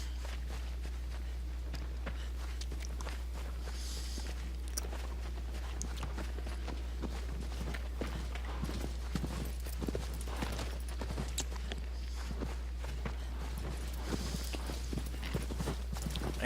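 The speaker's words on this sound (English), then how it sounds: "Funny part was, as you'll see, the horse is still following me." Horse hooves in Shadow of the Colossus clip-clop steadily behind the player, a rhythmic run of soft thuds at moderate distance over a low droning background, with no talk.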